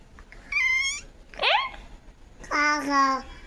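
A voice imitates a cat, giving three drawn-out meows close up, separated by short pauses.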